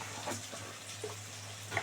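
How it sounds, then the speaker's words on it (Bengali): Soft, steady sizzling of onions frying in a pan, with a few light stirring clinks and scrapes, close and fairly quiet. "দুখানা পেঁয়াজ দিয়েছি পেঁয়াজটা এবার লাল করে ভাজা হবে"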